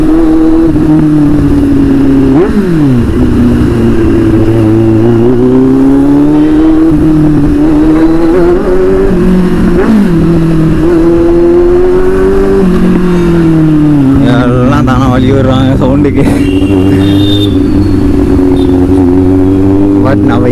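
A vehicle engine hums and revs while riding, its pitch rising and falling over and over, loud and close, with voices talking over it.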